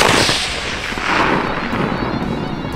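Loud, dense burst of noise from a long-range rifle shot at dusk, a sustained roar with layered crackling and rumbling that fills the whole moment with no clear gaps.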